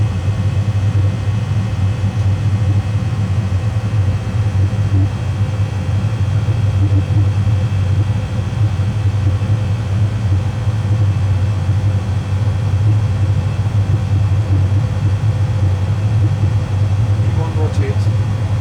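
Jet airliner engines at takeoff thrust during the takeoff roll on a curved departure, a loud steady roar with deep low rumble and a constant whine, continuous throughout.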